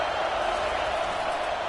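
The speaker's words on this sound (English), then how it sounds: "It is getting loud as this crowd tries to help its defense." Crowd noise in a football stadium as fans get loud to help the home defense, a steady, even wash of many voices filling the space without distinct claps or breaks.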